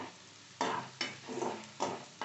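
Sliced onion and coarsely crushed whole spices fry in a pan, a soft sizzle broken by several sharp spatula stirs and scrapes at irregular intervals.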